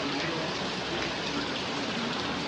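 Rain falls steadily outside a luxury hotel beside its swimming pool, a dense, even hiss of drops on surfaces that holds continuously at moderate volume with no talk over it.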